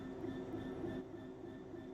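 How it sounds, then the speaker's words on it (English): Train Sim World 3 locomotive begins moving with a low steady engine and rail rumble plus faint humming tones, continuous and fairly quiet with no voices. "Let's get the train moving and see it all working."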